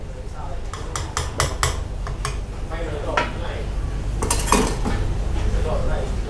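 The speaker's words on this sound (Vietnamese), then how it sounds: "Thế là mình cứ khuấy như thế trong vòng 3 tiếng là được em?" Utensils scrape and clink against a cooking pot as a fish mixture is stirred, with a run of sharp metallic taps near the start and more toward the end over steady background noise and low chatter.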